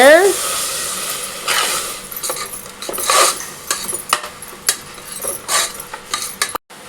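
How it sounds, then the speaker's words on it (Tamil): Mint, green chilies and coriander sauté in a pan for mushroom biryani, giving a steady close sizzle broken by repeated clatters and scrapes of a utensil against the pan, with a brief sudden dropout near the end. "இதில் புதினா, பச்சை மிளகா, கொத்தமல்லி போட்டுக்கலாம். அதை நல்லா வதக்கிக்கோங்க."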